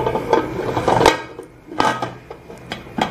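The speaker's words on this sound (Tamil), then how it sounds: "இப்போ இதை நம்ம மூடி வச்சிடலாம்" A metal lid is set down on a cooking pot holding sponge cake batter, making a few close clanks and scrapes of metal on metal with short pauses between them.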